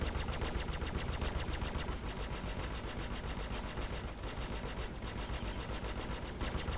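Ship-mounted guns on a Sabre fighter in the space game Star Citizen fire in a continuous rapid stream, a dense rattling barrage of evenly spaced shots with only brief pauses, no voices over it.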